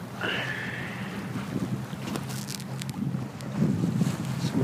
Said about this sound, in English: that wind's still picking up.